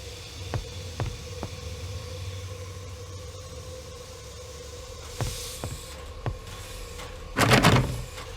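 A train carriage door is rattled and knocked against its lock in a series of sharp, separate thuds. A harsher scraping clatter follows near the end, all heard over a steady low mechanical hum.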